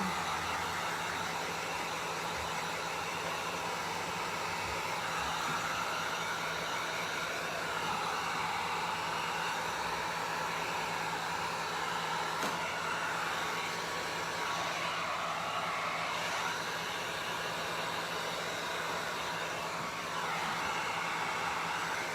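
A hair dryer blows steadily on a freshly painted wing during an upcycling craft session, a constant close whooshing drone that runs unbroken for the whole stretch.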